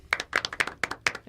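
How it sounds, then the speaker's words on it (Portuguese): A few people clapping in sharp, distinct hand claps for the audience at the start of a Portuguese-language podcast episode, close and dry, with an uneven quick rhythm over a short burst. "Para a alegria da nossa audiência, palmas de lei, né?"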